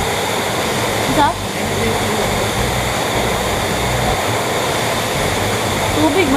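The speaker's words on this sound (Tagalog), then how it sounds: "Tubig man daw na. Tubig." Rushing water at Kawa-Kawa Falls makes a loud, steady broadband roar that fills the scene, with people talking faintly beneath it.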